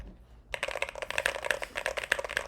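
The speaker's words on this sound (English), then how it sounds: "So this is my old keyboard. It's a Keychron Q4. Same mods as my Moonlander, but it sounds so much better." Rapid typing on a Keychron Q4 mechanical keyboard with modded switches, a steady run of close, crisp clacks that starts after a brief quiet moment and continues alone with no talk.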